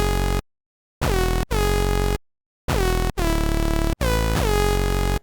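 Serum synth bass preset recreating a 2014 bass sound: loud, harsh, buzzy bass stabs in irregular bursts with brief gaps, some notes sliding down in pitch, played alone.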